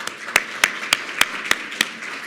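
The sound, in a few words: audience applause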